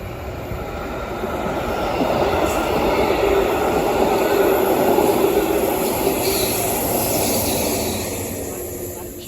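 A Berlin S-Bahn S5 train pulls into the station beside the trade-fair grounds, its rumbling wheels and motors swelling to a loud, sustained roar before easing off, with faint high squeals overhead.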